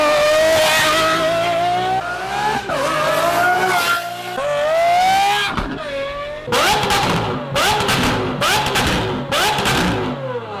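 A Lamborghini Aventador SVJ engine screams through high revs, climbing and dropping between gear changes, then a string of sharp bursts and blips near the end, very loud and close.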